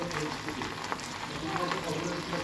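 Okra frying in a pan over a weak gas flame, a steady close sizzle with light stirring, while a person talks over it.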